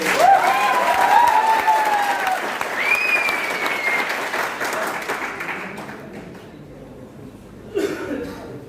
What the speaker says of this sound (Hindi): एक बार ताली भी बजा दो सब।